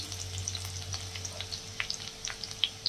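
Ginger and finely cut garlic slices sizzle in hot oil for egg rice, a close, lively crackle with small pops and spatters over a low steady hum.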